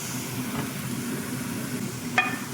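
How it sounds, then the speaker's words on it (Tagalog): Chopped garlic sizzles in a frying pan alongside onion and carrots, cooked for a beef lasagna. A steady, moderately loud hiss continues throughout, with light stirring and one brief clink near the end. "Tapos lagay ko na yung garlic."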